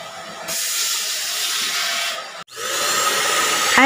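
A Deerma DX700 handheld vacuum cleaner runs with a steady, airy whine that cuts out briefly and restarts, loud and close with no talk.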